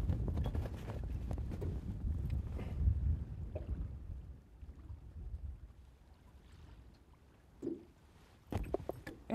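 Wind blows outdoors at a lake in Elliot Lake, Ontario, during bass fly fishing, with heavy low rumbling gusts buffeting the microphone that ease off midway and then return in short bumps.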